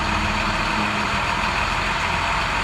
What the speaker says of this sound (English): Engine's going to rev up real high.